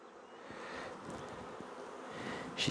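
Honey bees buzz in a continuous low hum from an open hive in a May apiary check, with a sharper, louder burst near the end as one flies past.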